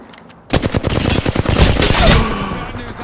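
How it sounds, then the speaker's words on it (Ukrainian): Loud rapid automatic gunfire erupts after a short quiet moment, a sustained burst of shots with echoing tails, like a shooter game firefight, enemies firing from a building rooftop. "там на даху стоять і відстрілюють нас"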